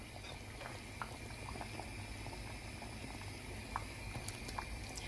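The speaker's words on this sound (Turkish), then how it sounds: "Yemeğimizin eriştelerini koydum. Kaynamaya başladı." Egg noodles (erişte) boil in a pot of water, a soft, steady bubbling simmer with scattered small pops, quiet and continuous throughout with no voices.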